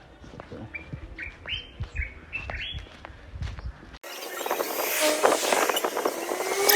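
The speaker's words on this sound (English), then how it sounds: "Parakeet." Parakeet and other birds singing outdoors at Cape Coast, Ghana: rapid bright chirps and tweets close by, then a denser, noisier mix of distant calls and background ambience.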